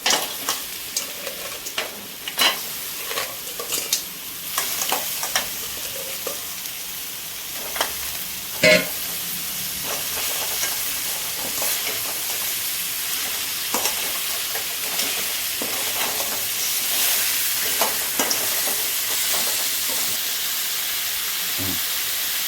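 Crab sizzles and fries in a pan with softened onion and tomato, a constant hiss broken by sharp clicks and scrapes of stirring, close and steady with no talking.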